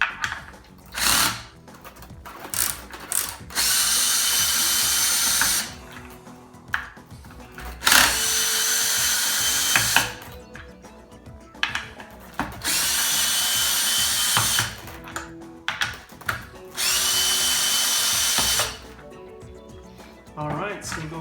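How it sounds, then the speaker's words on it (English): A power drill backs out the screws holding a hoverboard wheel, buzzing in several loud bursts of two to three seconds each, separated by brief pauses, quiet handling clicks and some talk. "We're going to use this power drill to go ahead and take them out."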